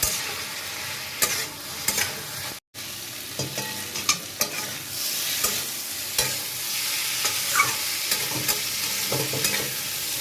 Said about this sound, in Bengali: বড়াগুলো দিয়ে এটাকে ভালো করে কষিয়ে নিচ্ছি।